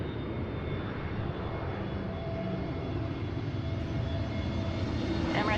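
An Airbus A321neo jet airliner arrives at Seattle's runway 34L, a loud steady roar of engines and rushing air that holds constant throughout.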